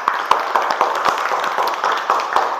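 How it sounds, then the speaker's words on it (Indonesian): Group of students in a class clapping for a presenting group: dense, steady applause from a small crowd, loud and close, with sharp individual claps standing out throughout. "Tepuk tangan dulu untuk kelompok 2."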